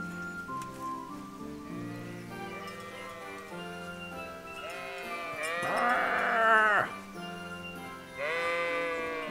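Sheep in the medieval role-playing game Kingdom Come: Deliverance bleat several times over steady background game ambience, with a loud, drawn-out bleat near the middle and another toward the end.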